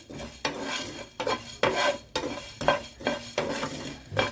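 Coriander seeds dry-roast in a pan while being stirred, giving a rhythmic series of scraping, rattling strokes roughly every half second, up close and with no talking.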